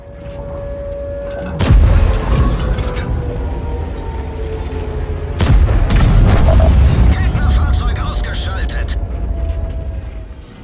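Tank battle in World of Tanks, heavy booming cannon blasts and rumbling engines, two big impacts standing out among continuous mechanical roar and gunfire, loud and close, with a voice talking over parts of it.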